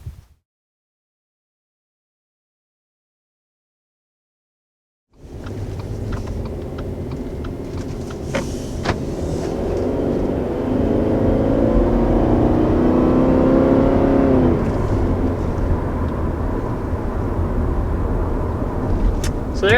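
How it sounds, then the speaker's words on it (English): A 2020 Subaru Forester 4-cylinder engine accelerating on the road. The engine comes in after a stretch of silence and builds into a steady, rising drone and rumble from inside the cabin, with a brief voice heard at one point. "So there's our first acceleration in the 2020 Forester"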